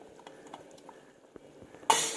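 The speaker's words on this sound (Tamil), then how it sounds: "பருத்து வச்ச பயிரை போட்டுருவோம்." Soaked pulses are dropped into a simmering tamarind curry in a village kitchen. Faint clinks and low rustling give way to a sudden loud splash and hiss near the end.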